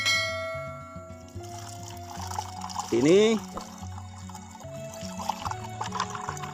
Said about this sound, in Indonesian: Lalu kita tuangkan air putih ini ya.